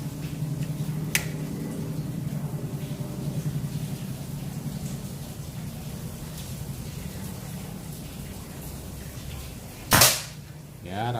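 A Predator Python P-32 PCP air pistol with a stainless tube charged to 2700 psi and a 25 cm barrel fires two sharp, crisp shots, one faint early on and one loud crack near the end, over quiet background hum.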